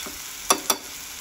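Onion and tomato chutney simmers in a pan with a low, steady sizzle, broken by two quick, sharp stirring clinks close together.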